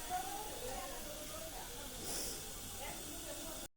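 Dried red chillies sizzle in hot oil in a wok, a steady close hiss that holds evenly throughout with a brief brighter flare near the middle before cutting off.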